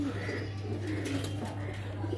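A napta pigeon coos at a pigeon farm in Nabadwip, a soft low murmur within a steady humming background, continuous and fairly faint throughout.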